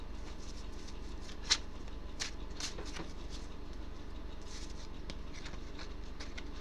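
Tarot cards being shuffled and drawn: soft papery riffles and brushing, with one sharp snap and a few lighter flicks spread across a quiet room, no talking.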